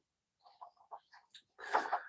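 A single loud, abrupt sneeze from a congested person commentating a Bulls versus Munster rugby match, preceded by a few soft breathy sniffs and catches of breath.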